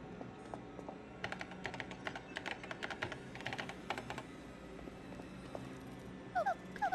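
Keys clatter in rapid bursts as a message is typed on a keyboard in the Paper Mario: The Thousand-Year Door video game, followed by a few short chiming game tones at the end.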